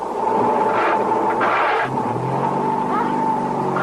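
A diesel truck's engine revs and rumbles as it drives off, a loud, steady mid-pitched roar close by with rising pitch, no voices over it.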